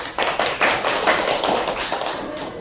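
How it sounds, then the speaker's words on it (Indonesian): Classroom applause at an elementary school, a dense steady patter of many children clapping together, fairly loud and continuous with no talking. "Boleh tepuk tangannya?"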